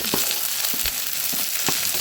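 Duck meat stir-fried with onions in hot oil in a wok for an Assamese duck curry with ash gourd, a steady close sizzle broken by several sharp scraping stirs.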